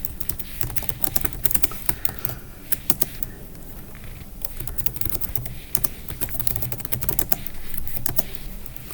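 Python code being typed on a computer keyboard: a rapid, uneven patter of close key clicks with brief pauses between bursts and no voices.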